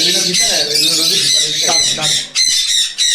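Loud, harsh squawks from pet exotic birds, including rosellas, repeat in quick bursts close by in an aviary, with voices talking underneath.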